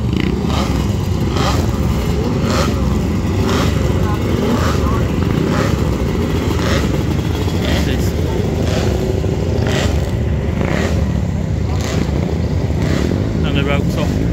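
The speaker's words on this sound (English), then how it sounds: "we'll watch some bikes off the line." Motorcycles roar loudly and continuously as they launch off the line at a 2024 motorcycle sprint event at Leighton Hall, with rhythmic pulsing engine bursts and indistinct voices in the background.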